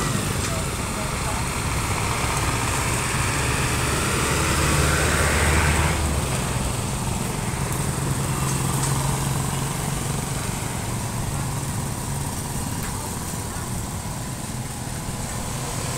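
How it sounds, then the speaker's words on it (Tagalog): Motorized tricycles pass and idle along a busy street in Toril, Davao City, a steady drone of small engines and road rumble that swells briefly as one goes by, with faint voices mixed into the traffic. "Yan, ang daming tricycle dito banda mga ka-walker"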